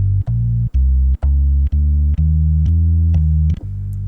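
Deep sustained bass notes from the lower manual of a Hammond XK5 organ, a walking run of about eight held tones separated by short gaps with key clicks, loud and close, no talking.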